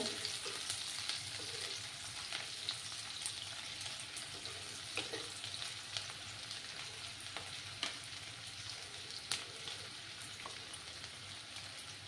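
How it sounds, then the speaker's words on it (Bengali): Chopped onion sizzles steadily in a hot pan for a radish-greens and fish jhol, a dense, even crackle with scattered sharper pops throughout, close up and with no voices. "একটা পেঁয়াজটাকে দিয়ে দিলাম, দিয়ে ভালো করে ভাজতে হবে"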